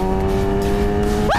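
A BMW S1000RR superbike engine holds a loud, steady high-revving drone close by, then its pitch sweeps sharply upward as the throttle opens near the end.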